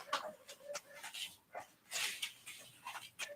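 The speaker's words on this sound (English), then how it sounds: "What is that noise? Sounded like a dog." A dog barks several times at a distance, sharp repeated yelps spread across the moment over a quiet outdoor background.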